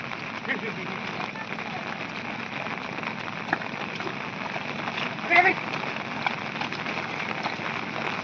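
Rain falls steadily in a constant hiss on a farm field in Konkan, with a few louder patters now and then.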